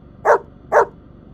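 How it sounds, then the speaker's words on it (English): A dog barks twice in quick succession, two short, loud, close barks about half a second apart with quiet between them. "The only thing I know how to do is bark."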